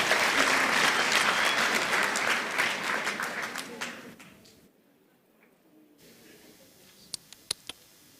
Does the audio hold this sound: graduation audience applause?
yes